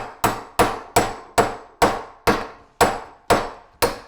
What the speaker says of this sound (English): You can see the bearing's crooked, but we're going to tap it, get it to straighten up.